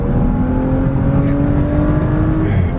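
A 2016 BMW 435i F32 accelerates hard, its engine droning loud and steady with a rising whine that climbs smoothly through the rev range, heard from inside the car without talk.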